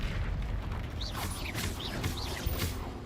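Confringo blast spells cast during a wizarding game duel, with crackling magical bursts and swooshing whooshes over a steady rumbling background, no talking.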